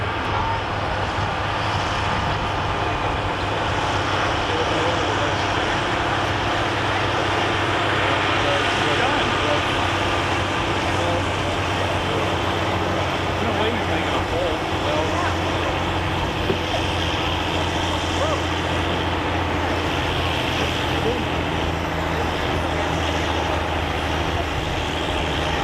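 Engine of a fairly light tractor pulling at a steam and gas engine show, a steady loud droning roar that holds throughout with little change, a faint voice talking over it.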